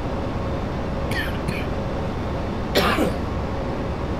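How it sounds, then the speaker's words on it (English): Two short coughs, followed by a louder, longer cough, sound close to the microphone over a constant airliner cockpit engine drone. "just coughed a little bit there"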